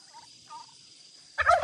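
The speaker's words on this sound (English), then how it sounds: "Got our turkeys right next to our garden." Two quick warbling gobbles from a turkey beside a market garden, fairly distant, followed by a louder burst of nearby gobbling and rustle at the end.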